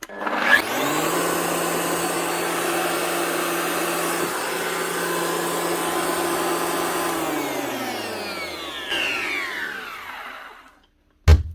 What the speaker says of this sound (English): That's the second Festool planer up and running again.